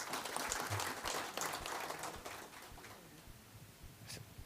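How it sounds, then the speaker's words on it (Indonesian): An audience at a national coordination conference applauds, a steady wash of many hands clapping that stays fairly loud and gradually softens over several seconds. "Saya ingin rekan-rekan dapat bisa memberikan aplaus kepada beliau."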